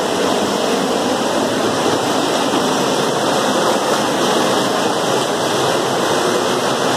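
Baghmara waterfall in Melamchi, Sindhupalchok, Nepal roars as a loud, steady, unbroken rush of falling water close by, with no talk over it.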